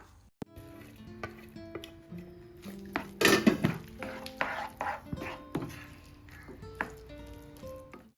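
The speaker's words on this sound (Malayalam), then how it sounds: "അതെല്ലാം കൂടെ ഇട്ടിട്ടൊന്ന് മിക്സ് ചെയ്ത് കൊടുക്കാം" Vegetables for pasta are stirred into a pan, with a run of clattering metal scrapes and taps of varying strength and a short louder burst of rattling in the middle, close by, over faint background tones and no talk.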